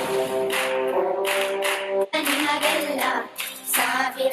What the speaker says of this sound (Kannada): ದಯವಿಟ್ಟು ಜೋರಾದ ಚಪ್ಪಾಳೆ ಮೂಲಕ